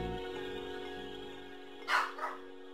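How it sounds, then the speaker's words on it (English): Dogs bark in The Dark Side Detective video game over a sustained, droning musical background, a sharp bark and then a second, shorter one near the end, moderately loud against the steady tones. "I wish the dogs would stop barking."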